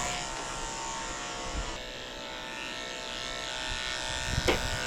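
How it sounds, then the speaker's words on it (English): Electric pet clippers buzz steadily while grooming a Yorkie's belly on a grooming table, a continuous close hum with a few soft bumps and a brief louder knock near the end. "it's hard to maneuver with these clippers."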